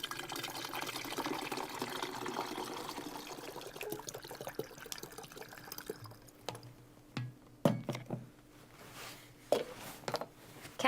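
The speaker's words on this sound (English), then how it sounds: "fill the bottle almost to the top with water" Water poured through a funnel into a bottle for pickling brine, a soft continuous trickling that thins out, then gives way to scattered gurgles, drips and small knocks near the end.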